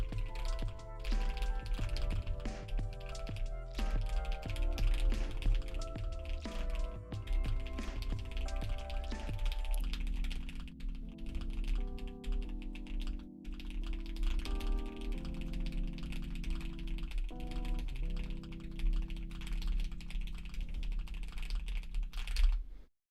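Rapid computer keyboard typing during an online typing race, a fast continuous patter of key clicks with brief pauses, heard close and clear over a music track playing throughout.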